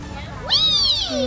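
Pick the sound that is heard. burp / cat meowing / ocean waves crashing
cat meowing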